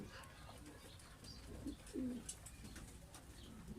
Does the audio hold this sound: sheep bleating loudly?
no